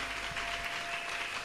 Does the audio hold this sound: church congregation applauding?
yes